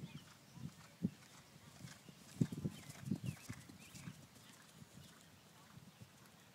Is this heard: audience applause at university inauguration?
no